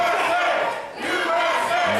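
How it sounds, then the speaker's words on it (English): A pro wrestling arena crowd chants USA in loud, rhythmic unison, two swelling waves of massed voices filling the hall with a brief dip between them. "Not happy about this crowd's USA chants"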